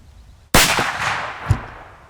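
A slug shotgun fires a single sharp blast with a long ringing decay, followed by a fainter metallic clank about a second later, alone with no voices.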